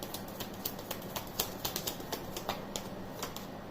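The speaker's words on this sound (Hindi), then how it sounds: "फिर से शफल करते हैं।" A deck of tarot cards shuffled by hand gives a steady run of quick, crisp slaps and flicks at an even rhythm, close and clear, with no voices.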